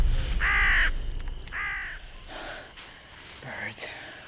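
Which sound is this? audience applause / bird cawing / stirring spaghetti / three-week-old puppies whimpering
bird cawing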